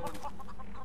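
Chicken clucking from the Neverwinter Nights role-playing game, a short run of rhythmic clucks close and clear over a steady background.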